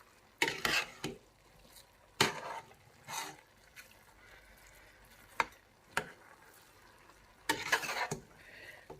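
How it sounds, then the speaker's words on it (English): A spoon stirs shami kebab ingredients cooking in a pot, giving several distinct scraping knocks against the pot over a soft simmer, spaced irregularly and fairly close. "and then I'll give them all a good stir"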